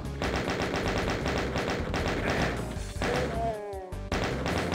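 Rapid, continuous gunfire in the video game Voxel Doom 2, loud repeated shots and thumping impacts in a dense rhythm, with a brief pause and a whooshing effect near the end.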